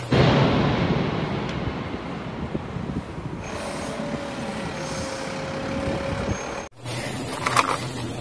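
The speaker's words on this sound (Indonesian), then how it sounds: "Wah, truk tangki Pertamina." A Pertamina fuel tanker truck driving past on a road, with a loud, steady engine rumble and road roar, a rising whine mid-pass and a brief dip near the end, with no talk.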